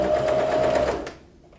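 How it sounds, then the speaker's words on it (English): A sewing machine running a zigzag stitch along the raw edge of swimwear fabric, a fast close whirring buzz that runs for about a second and then stops abruptly, leaving near silence. "now I'm just doing my zigzag stitch to catch that raw edge"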